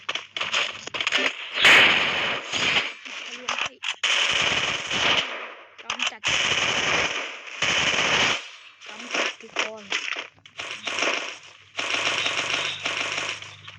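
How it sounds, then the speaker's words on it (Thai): Automatic weapons fire in a shooting video game, coming in loud, rapid bursts of crackling shots separated by short pauses, with brief single shots and clicks between the longer volleys. "ยิงหัวเยอะแบบนี้มัน ยากมากนะครับ"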